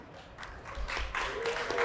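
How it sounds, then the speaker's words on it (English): Applause from the crowd at a live podcast show in Boston builds from soft clapping into a fuller, steady roar of hands over a couple of seconds. "I want to give a round of applause"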